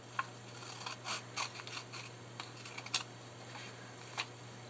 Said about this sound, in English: So I'm just going to trim along this side.